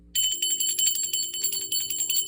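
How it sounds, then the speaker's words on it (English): A bell rung for spirit guides during a spiritual ritual gives a bright, sustained metallic tone that rings out loud and clear. It carries a quick shimmering pulse and is heard alone with no talking. "I'm going to ring the bell for my spirit guides, guardian angels, and ancestors"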